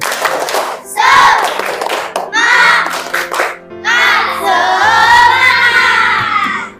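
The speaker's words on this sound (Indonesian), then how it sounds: "Coba tepuk semangat." Children in a classroom perform the tepuk semangat chant, shouting rhythmic words together between bursts of clapping, loud and close.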